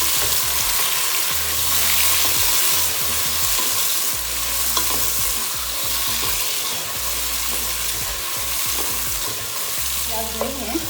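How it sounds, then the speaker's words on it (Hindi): Chicken pieces browning in a pot for yakhni pulao, a dense continuous sizzle with frequent stirring scrapes, loud and close throughout. "अब इसमें मैं ये चिकन डाल दूँगी। इसकी थोड़ी भुनाई करेंगे।"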